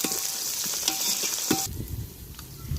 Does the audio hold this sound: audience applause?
no